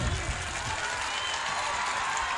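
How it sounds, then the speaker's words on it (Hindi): Audience clapping at a mushaira poetry event in Araria, Bihar, a steady full-room wash of applause without a clear beginning or end. "एक बार ताली बजा के इजाजत तो दीजिए।"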